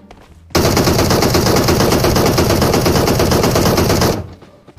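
Sustained automatic gunfire in a first-person shooter video game, a loud continuous burst of rapid shots lasting several seconds before cutting off, with no talk over it.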